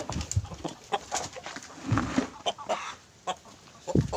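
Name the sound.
chickens clucking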